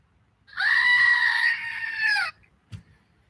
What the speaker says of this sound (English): Cassie, screaming goat.